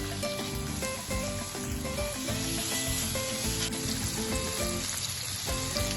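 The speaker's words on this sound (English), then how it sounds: "I'm now going to sauté the fish in 1 tablespoon of butter." Fish sautés in a tablespoon of butter in a pan, a dense, loud, unbroken sizzle that stays close and even throughout.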